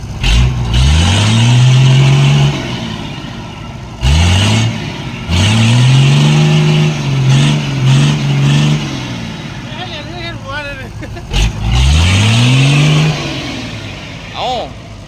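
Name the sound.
ten-wheeler truck engine revving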